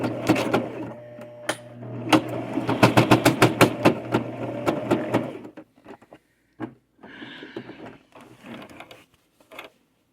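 A home sewing machine sewing a fabric pouch, running in a rapid, loud, close mechanical chatter of even stitching pulses for about five seconds, then stopping, followed by quieter clicks and short handling noises.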